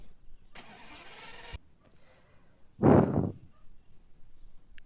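Lamborghini engine in a video game: a short faint rev, a pause, then a louder burst as the engine starts or revs, heard close and alone against a quiet background.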